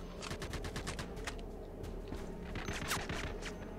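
Suppressive gunfire in the sci-fi shooter game E.T. Armies, rapid automatic bursts of shots repeating in quick irregular volleys, fairly close and moderately loud over a rumbling battlefield background.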